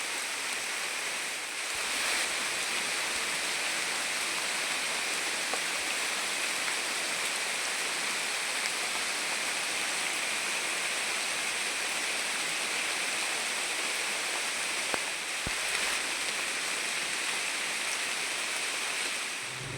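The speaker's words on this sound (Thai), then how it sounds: "ฝนบ่เซาเลยพี่น้องฝนตก" Steady rain falls continuously during a rural outing in the Lao-Thai countryside, a dense, even hiss of water holding at the same level throughout with no voices.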